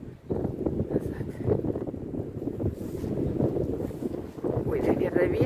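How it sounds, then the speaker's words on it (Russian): Wind buffets the microphone in gusty rumbling bursts on a street in St. Petersburg, with a voice talking faintly underneath. "Извините, если ветер."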